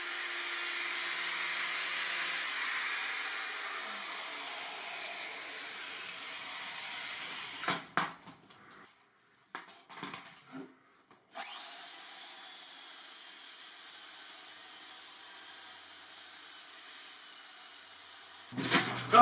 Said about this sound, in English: if I did this with the little sander, I'd have much more control